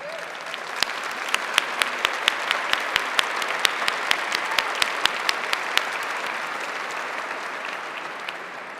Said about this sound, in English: Can I please ask you to stand while we give you a round of applause?